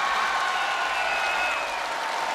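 Audience applause at a Liaoning TV Spring Festival gala, a dense, sustained clapping from a large crowd, fairly loud and even throughout.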